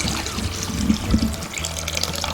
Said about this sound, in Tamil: இப்போ கொஞ்சம் தேவையான அளவு தண்ணி விட்டுக்கலாங்க